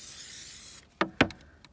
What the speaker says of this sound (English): Amsoil Mudslinger on the right. We're gonna spray again.